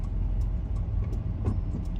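Night-time road traffic heard from inside a car: a steady low engine and road rumble with faint passing vehicles, continuous and muffled, no talk.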